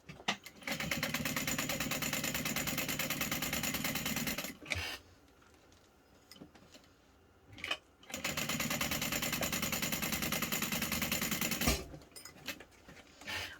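A sewing machine stitches down the sides of a backpack strap in two long steady runs of fast rhythmic whirring, separated by a quiet pause with small handling sounds.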